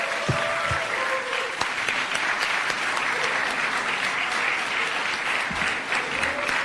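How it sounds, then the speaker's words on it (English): Steady, full applause from an audience at the YouTube Black Voices closing ceremony at State House, honouring the President after his remarks, a dense wash of clapping throughout with a few faint voices underneath. "A really warm round of applause for His Excellency."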